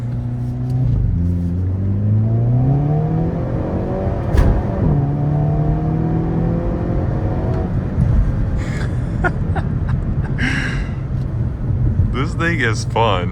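A Hyundai Kona N engine revs while driving, rising and dropping in pitch through the gears with a strong, close drone, while someone talks over it.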